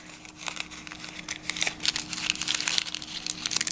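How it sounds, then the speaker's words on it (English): Paper cupcake liners folded in half again and again and pressed into creases for a kids' craft, giving close, soft crinkling and rustling in irregular bursts that grow busier toward the end. "You're going to take your cupcake liners and fold them in half 3 times."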